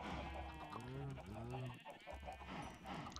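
Sheep bleating on a farm in a video game, several drawn-out wavering bleats overlapping in the middle, over a busy background of game sounds and a voice talking.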